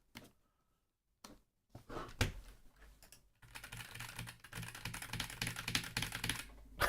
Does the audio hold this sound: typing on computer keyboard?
yes